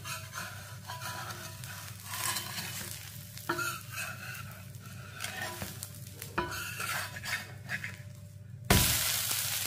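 A curry leaf dosa cooking in sesame oil, a soft continuous sizzle under repeated scraping and tapping of a spatula on the pan as it is flipped, with a louder hiss bursting in near the end.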